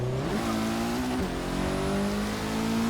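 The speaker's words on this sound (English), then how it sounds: "That was a late downshift." A 2004 Mitsubishi Lancer Evolution VIII MR races in Forza 6, its engine note dropping and jumping with quick downshifts, loud and continuous without any voices.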